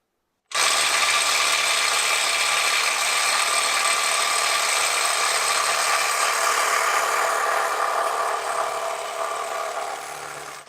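Milwaukee M12 FUEL subcompact impact wrench tightening to 100 foot-pounds, a loud, continuous close-up hammering rattle running unbroken for about ten seconds, fading slightly at the end.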